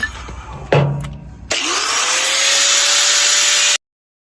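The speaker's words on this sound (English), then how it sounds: "now I'm gonna go out there and just keep trimming it up until it fits good" A power tool trimming an aluminum jon boat's front deck frame: a short clunk and sputter, then a high whining motor spins up and runs steadily for about two seconds before cutting off abruptly.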